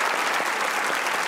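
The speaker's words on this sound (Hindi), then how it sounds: "तालियां बजाए।" A studio audience at a stand-up comedy show claps in dense, sustained applause, loud and continuous for the whole moment with no speech over it.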